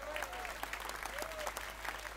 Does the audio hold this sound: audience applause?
yes